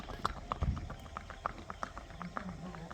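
An ambling horse being ridden at a quickening gait clip-clops steadily, its hooves striking in a regular, fairly close rhythm through the whole stretch.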